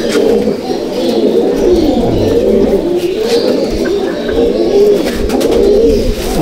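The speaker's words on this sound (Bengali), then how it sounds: "এটা হচ্ছে নর পায়রা" A male Malbai/Panjabi pigeon coos close up in a loft, low rolling calls repeating in a steady rhythm over a soft, continuous background.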